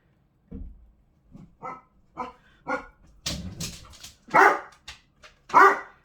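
A dog barks close by in a quiet room, giving about ten sharp barks in uneven bursts, some higher and yelping, with silence between them.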